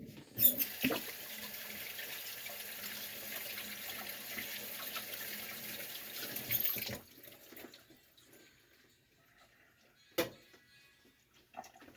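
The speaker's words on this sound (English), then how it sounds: "Pandemic or not, you wash your hands." A tap runs steadily into a sink for hands being washed, a soft hiss of water for about seven seconds before it stops, followed by quiet with a couple of small clicks and drips.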